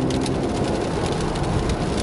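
Heavy rain drums steadily on the windshield of a Toyota GR Supra fitted with Michelin Pilot Sport 4S tires, making a dense, continuous hiss as it drives on a wet highway.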